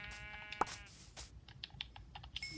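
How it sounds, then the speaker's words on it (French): A Minecraft sheep gives one short, wavering synthetic baa early on, then quiet keyboard typing and clicks continue, with no voices. "Ah, des moutons."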